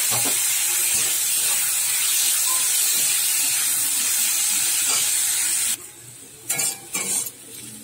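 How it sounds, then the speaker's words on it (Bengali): Potatoes frying in a pan make a loud, continuous sizzle with stirring scrapes. Near the end the hiss cuts out and returns in a few short bursts. "বেগুনটা ভেজে তুলে নিয়েছি, আলু ভাজা বসিয়ে দিয়েছি।"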